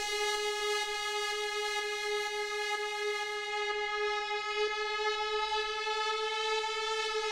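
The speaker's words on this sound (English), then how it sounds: "So it just pitches up the whole sound" A bright synth tone, part of a track's build-up and break, glides upward in pitch under a raised pitch bend, its stacked harmonics rising steadily and holding loud and alone for about seven seconds.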